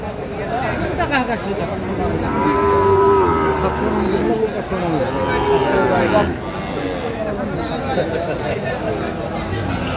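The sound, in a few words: Sahiwal bull calf mooing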